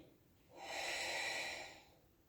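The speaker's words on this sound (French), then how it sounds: "J'inspire et je souffle." Steady breathing in and out during a Pilates exercise, one long, soft, airy breath swelling and fading, close and alone with no talk.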